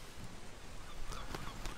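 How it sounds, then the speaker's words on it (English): Honking, goose-like bird calls in the horror game Endless Days, several quick faint cries in succession over a low, noisy background. "Oh, there's birds."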